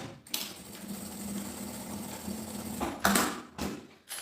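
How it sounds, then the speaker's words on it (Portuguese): A sewing machine stitches seams on a gym bag strap, running in a steady close whirring burst with brief pauses and short back-stitch stops near the end, no voice. "E vamos passar aqui costura."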